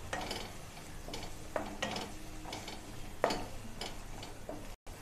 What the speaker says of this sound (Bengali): এক চামচ কাশ্মীরি লঙ্কার গুঁড়ো একটু নেড়েচেড়ে দিচ্ছি